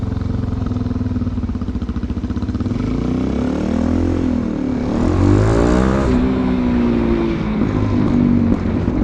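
A Suzuki DRZ 400SM supermoto with an aftermarket exhaust revs loudly and close, engine note rising and falling through a throttle blip, with rough crackling from the exhaust as it winds down.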